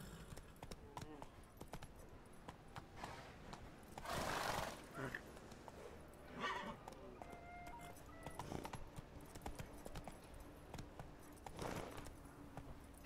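Horse hooves clip-clopping in the video game Witcher 3, a faint rhythmic trotting under a quiet game soundscape with a few louder whooshes and snorts interspersed.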